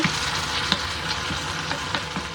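Cornstarch slurry stirred into a pot for a Mauritian magic bowl dish, the spoon scraping steadily under a constant loud sizzle of frying food.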